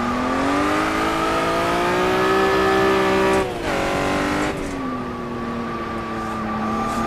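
Honda NSX mod car in a racing game on the Tsukuba track, its engine giving a loud, deep, sustained drone whose pitch dips and climbs as the revs shift, with a brief rougher burst in the middle.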